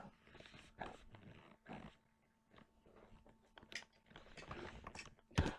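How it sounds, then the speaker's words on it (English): A dog coughing and chewing nearby, with quiet scattered hacks, crunching bites and mouth noises spread over several seconds and no voices. "That was my dog. He's a cougher."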